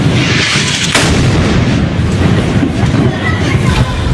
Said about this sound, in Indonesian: Rekaman video menunjukkan dahsyatnya ledakan bangunan di kota Gaza.